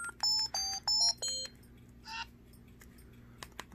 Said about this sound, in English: Let's go and take a look at our ringtones, which we're already starting out playing.